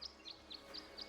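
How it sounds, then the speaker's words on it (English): Birds in the video game Tangle Tower chirp a little tune: five short, evenly spaced high tweets that sound faint and soft. "The birds seem to like it. They're even singing a little tune."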